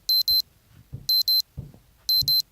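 A timer alarm beeps in three bursts of two quick electronic rings each, evenly spaced and loud, with faint low background shuffling between them.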